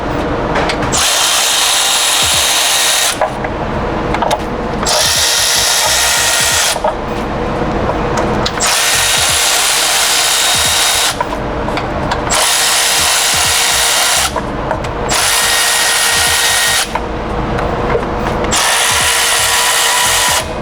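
A power drill or impact tool runs in repeated bursts of a few seconds each, removing valve cover bolts on a 2008 Mitsubishi Lancer GTS, loud and close with short pauses between runs.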